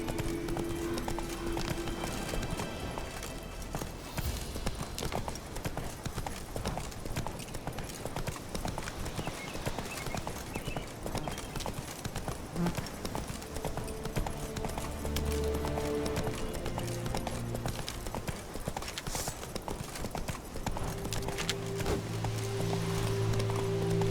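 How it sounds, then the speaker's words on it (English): Horse hooves gallop in a fast, continuous clip-clop in The Witcher 3, steady and close throughout, layered with game music and a brief spoken line. "Come on, Roach."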